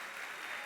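A church congregation claps together in a steady, dense wash of applause that fills the short moment without any voices.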